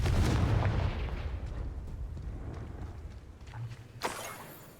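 The Confringo explosive spell is cast in the Hogwarts Legacy video game, giving a heavy booming burst that fades into rumble, then a sharper blast near the end.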